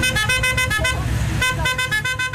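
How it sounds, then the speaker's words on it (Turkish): Several Fiat 124-based Murat cars decorated with Turkish flags honk their horns in a convoy along a Bodrum highway, with loud, repeated overlapping toots, a short pause, then more honking over road noise. "Türk bayraklarıyla süslenen Hacı Muratlar, Bodrum Turgut Reis Karayolu'nda korna çalarak konvoy oluşturdu."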